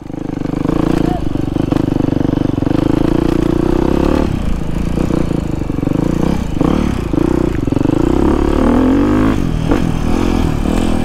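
An enduro motorcycle engine running while being ridden, a loud continuous mid-pitched drone with rising revs and mechanical clatter, close up, with a rider's voice over it at times.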